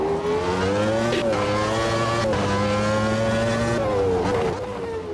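A generic 1991 V10 race car screams through a last qualifying lap of the 1991 Brazilian Grand Prix in a sim racing game, its high, steady engine note rising and dropping with quick gear shifts, loud and close.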